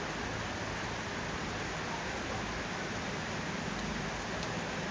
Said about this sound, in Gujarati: ભાઈ વરસાદ જબરજસ્ત ચાલુ થઈ ગયો